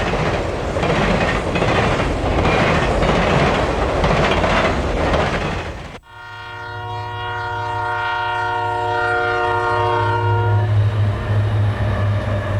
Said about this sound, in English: the Central Valley is host to a variety of SP mainline trains, including this intermodal headed for Portland, Oregon